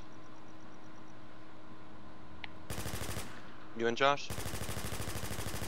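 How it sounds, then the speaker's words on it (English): Automatic gunfire in The War Z online survival shooter during a group player-versus-player fight, sustained rapid bursts breaking in after a quiet stretch, with a player's brief voice over the shots. "Who's shooting?"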